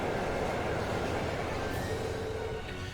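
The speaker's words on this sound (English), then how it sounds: "There's another train. Honk honk." Train passing through a station area in the video game The Legend of Heroes: Trails of Cold Steel, a steady broad rumbling roll with faint squealing tones, continuous and fairly close for the whole stretch, no voices.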